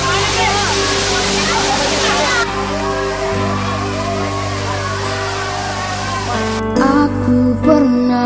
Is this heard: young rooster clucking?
no